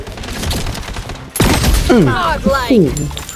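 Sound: M700 sniper rifle shots in a video game

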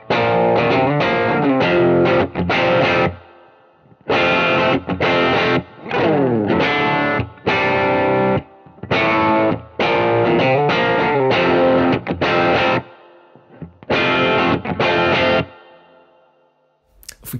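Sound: electric guitar through lightly overdriven distortion pedal

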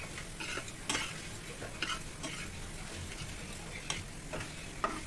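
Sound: semolina (rava) being stirred and roasted in ghee

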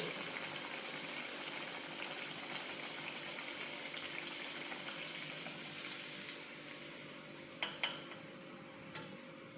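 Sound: sabudana vada deep-frying in oil

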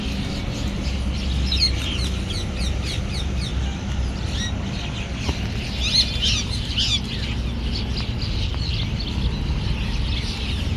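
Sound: pigeons

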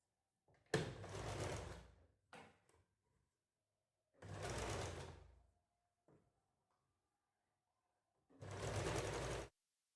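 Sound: sewing machine stitching blouse lining

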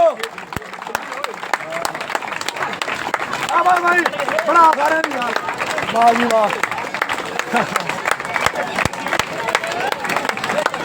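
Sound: crowd clapping at kabaddi training camp

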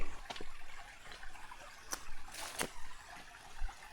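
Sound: water flowing in a forest stream

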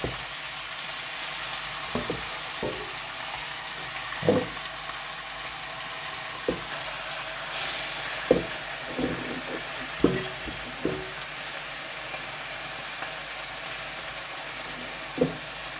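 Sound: lamb cracklings frying and being stirred in a pan

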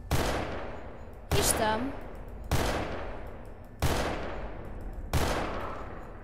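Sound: gunfire in the video game Garry's Mod

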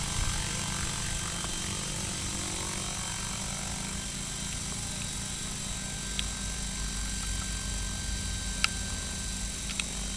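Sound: DJI Wookong-S scale model helicopter flying

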